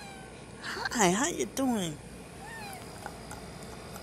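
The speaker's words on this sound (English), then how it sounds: "A cat." A cat in a hotel room gives a few close, wavering meows in quick succession, with someone speaking softly to it.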